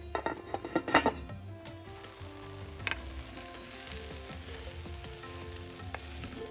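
Chopped taro root (chembu) sizzling and frying in a pan, with a few sharp clinks of a utensil stirring near the start, then a steady low sizzle that continues quietly to the end.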